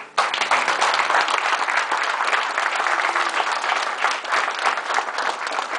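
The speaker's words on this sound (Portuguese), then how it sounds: "Você pode aplaudir a ele?" A church congregation at a baptism service applauds a newly baptised man, dense sustained clapping starting abruptly and holding steady and loud throughout, with no voices over it.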